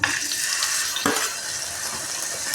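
Pieces frying in hot oil in a pan give a steady close sizzle, with a brief clink partway through.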